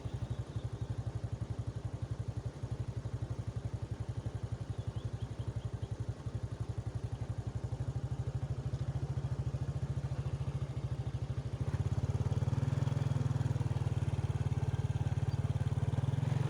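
A Honda Revo 100 motorcycle rides along with its small engine chugging in a steady rapid pulse. The engine grows louder and fuller late on as the throttle opens for a climb.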